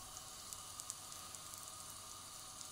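Soft, steady sizzling of a sirnik (cottage cheese pancake) frying in a pan, with faint scattered pops and crackles, quiet and close.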